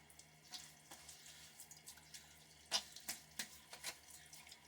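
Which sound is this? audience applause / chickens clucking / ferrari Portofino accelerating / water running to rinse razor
water running to rinse razor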